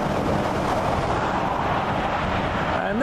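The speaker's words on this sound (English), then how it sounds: "And that was the sound of a road train going past." A road train truck roars past close by, a loud, steady broadband rumble with wind-like noise that holds throughout.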